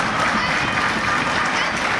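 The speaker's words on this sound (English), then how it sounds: "check out the hometown crowd here in Newville and nearby Carlisle coming alive for the hometown boy, Ian Jordan" A hometown wrestling crowd in Newville applauds and cheers steadily, a dense wash of clapping and voices filling the whole moment, loud and continuous.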